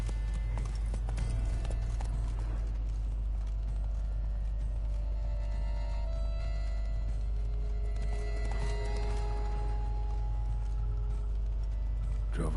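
Roach, a horse in The Witcher 3, gallops with steady, rapid clip-clop hoofbeats across the whole stretch, close and continuous over a low rumble and game music.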